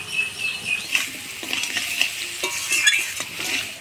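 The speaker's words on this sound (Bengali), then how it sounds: "আলুটা ভাজা হয়ে আসছে" Potatoes sizzle in hot oil with dried red chillies, nigella seeds, turmeric and salt while a utensil scrapes and stirs them around the pan in quick, irregular strokes, close and clear with no talking.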